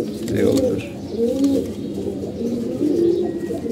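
Sick pigeons suffering from watery eyes coo in low, rolling phrases, repeated several times and close by, with a faint chirp or two in the background.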